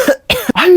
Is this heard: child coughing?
yes